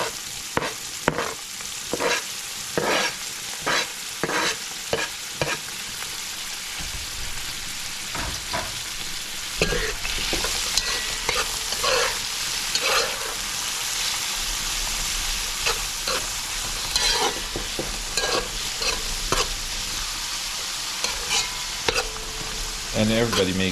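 Habanero pepper, tomatoes, scallions and ginger fry for a stew, sizzling steadily with repeated stirring clatter from a utensil in the pan, close and fairly loud throughout.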